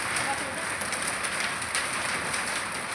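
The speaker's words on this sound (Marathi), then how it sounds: "आता गारांचा पाऊस आहे." Heavy hail and rain pelting down during a severe hailstorm over farmland and a house, a steady dense wash of hard impacts and splashing that holds at the same loud level throughout.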